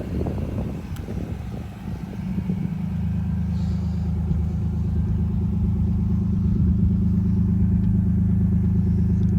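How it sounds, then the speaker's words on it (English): A 1991 Nissan Laurel Medalist Twin Cam engine starts with some rough clatter, then settles into a smooth, steady idle with a low, even hum, close and fairly loud, without talk. "So I can get an idea what the engine sounds like when it's running."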